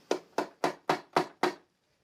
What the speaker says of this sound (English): light taps with the chisel and my mallet